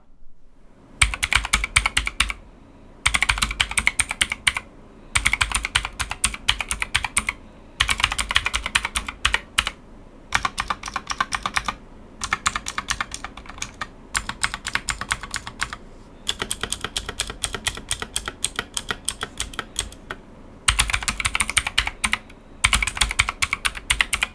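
Bursts of fast, clicky typing on an EGA K102 TKL mechanical gaming keyboard, close and crisp, separated by brief pauses, with no talking.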